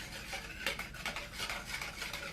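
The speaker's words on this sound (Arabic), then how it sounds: "هنقلبهم كويس جدا،" Milk with vanilla and three spoonfuls of sugar stirred briskly in a bowl with a spoon, close scraping and clinking strokes repeating in a quick, uneven rhythm with no talk.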